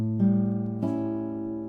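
Classical guitar plucking a bar of a grade-exam piece, fingerpicked with middle and ring fingers; two sustained chords ringing clearly, the second struck near the middle, played alone and quiet.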